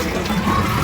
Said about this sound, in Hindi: ये देखो यहाँ पर पानी भर रहे हैं हम लोग